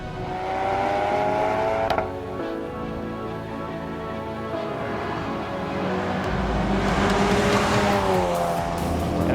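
A Ford Focus RS on Michelin Pilot Sport Cup 2 tyres lapping a race track, its engine droning loud and steady with rising and falling pitch as it crosses the finish line and brakes, with faint tyre noise.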